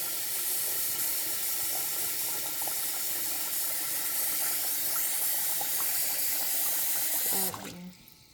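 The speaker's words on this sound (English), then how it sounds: "You're going to pour in" Water pours steadily over rice being washed, with a bright hiss and splash for several seconds, then cuts off abruptly near the end.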